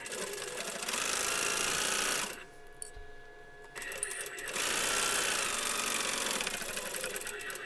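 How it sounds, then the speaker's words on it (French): Sewing machine stitching the bottom seam of a fabric pencil-shaped pouch, a loud steady whir in two long runs separated by a short pause, close up. "Vous allez commencer par coudre le fond."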